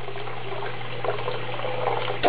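Cold tap water runs steadily while a rabbit water bottle is rinsed, making a continuous close splashing rush with a low steady hum beneath it and no voices.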